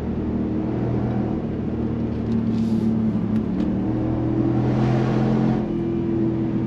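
Supercharged 2022 Roush Ford F-150 pickup truck accelerating, a steady loud engine drone with low harmonics that swells slightly as it pulls, heard from inside the cab with no talk.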